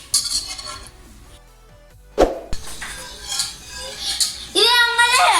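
A utensil clinks and scrapes against a pot while a cornflour and sugar mixture is stirred, giving a few sharp knocks and clatters, with a voice and other voices in the background.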